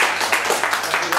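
Audience applause at a quiz night, a dense, steady wash of clapping from a crowd, loud and close, filling the whole short stretch without pause.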